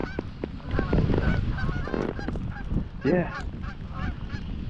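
A flock of geese honks overhead on a sod field during a goose hunt, a dense chorus of overlapping calls, fairly close and loud, while a hunter briefly murmurs a word.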